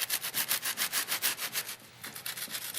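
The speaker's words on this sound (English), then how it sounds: "take our serrated knife and we're just going to trim like a saw" A serrated knife sawing back and forth to trim a cake, a quick even rhythm of soft rasping strokes close by, briefly pausing before the strokes resume.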